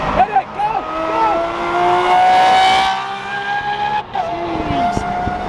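Pagani Huayra supercar accelerating hard: a loud, close engine rising in pitch through sustained revs, with gear-change dips and tire chirps, while excited voices talk over it.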